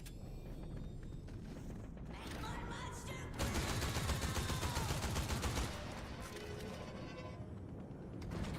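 Gunfire in Fortnite, bursts of rapid shots and clattering mechanical sounds in the game, loudest in the middle and fairly steady, with no voices over it.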